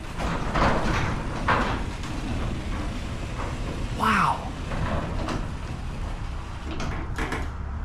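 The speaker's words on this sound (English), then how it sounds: "That is the quietest garage door I've ever heard." A garage door rolls open smoothly and quietly with a low steady rumble, while a person speaks briefly over it.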